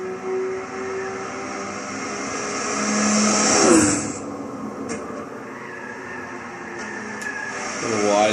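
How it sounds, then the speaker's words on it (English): A Volkswagen GTI Roadster in Gran Turismo 6 drones steadily through its engine and exhaust while lapping the Nordschleife, with a swell in pitch midway and a few shifts, heard under a voice. "The exhaust notes are okay, engine notes are okay"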